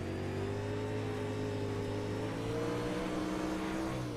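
A race car engine drones steadily as the driver feathers the throttle, the pitch hovering with small rises and dips. The sound stays continuous and moderately loud throughout, with no voices.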